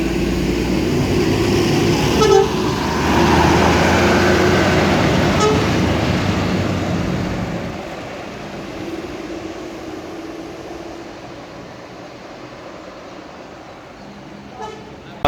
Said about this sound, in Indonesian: sekitar pukul 10 lewat, PO ANS Royal Class meninggalkan Terminal Bukit Serungan